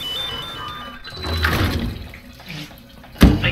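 Shower water running in the Death Stranding video game, a steady watery hiss at moderate level with a sharp thump near the end.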